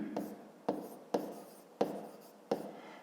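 A pen scratches across paper while someone writes out a math exercise, five short, quiet strokes spaced roughly half a second apart, close and otherwise alone.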